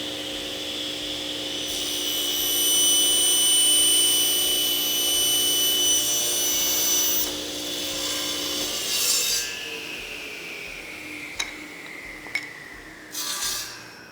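Table saw ripping a narrow piece of wood held in a small Rockler taper jig: steady high whine of the blade cutting, then the motor winding down, followed by a few sharp knocks and clatters of handling.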